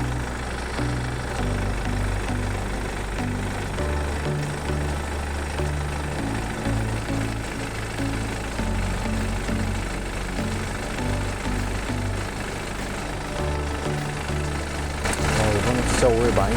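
A BMW 520d F10 diesel engine idles steadily with a low, rumbling drone, held during ZF8 transmission oil filling, continuous and close with a slight rise near the end.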